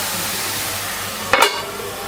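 Beetroot cooking in a covered pan for halwa, a steady soft frying hiss throughout with one brief louder clatter of the lid or spoon near the end.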